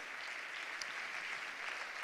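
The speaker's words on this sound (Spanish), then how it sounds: "Fuerte aplauso para John Irisarri, nuestro ciclista" Crowd applause for a cyclist at a cycling team presentation, steady dense clapping that fills the whole moment at moderate loudness, with no voices over it.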